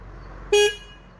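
A single short beep of a 2022 Bajaj Pulsar N250 motorcycle horn, bright and nasal, sounding once for a fraction of a second against a quiet background.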